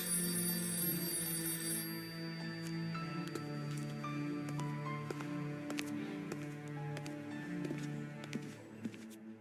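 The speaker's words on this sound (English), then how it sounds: "the phone in the back is ringing" A telephone rings in the Art of Murder: Hunt for the Puppeteer video game, a steady repeating electronic bell tone with sparkling clicks layered over a sustained tonal game soundtrack.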